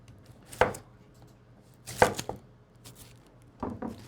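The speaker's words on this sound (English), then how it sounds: "And we're going to start by chopping some onions here," A knife chopping onions on a board: three or four sharp, separate chops spaced out over a few seconds, close and crisp, with quiet in between.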